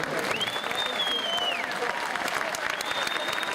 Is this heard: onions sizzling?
no